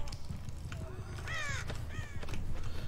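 Crow caws in the Dead by Daylight horror game on the Haddonfield-style forest map, two clear harsh caws over a low rumbling game ambience.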